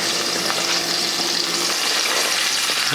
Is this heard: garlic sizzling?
yes